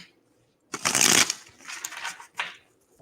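Cards riffle-shuffled close by, a loud burst of fluttering followed by two shorter shuffles, with a brief quiet before the first.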